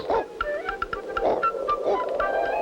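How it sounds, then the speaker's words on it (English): A cartoon dog barks in a series of short yips and woofs over a busy animated soundtrack, the barks fairly close and repeated at an uneven pace. "That's Otto barking."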